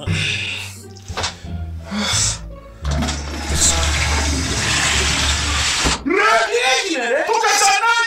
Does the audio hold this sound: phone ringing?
no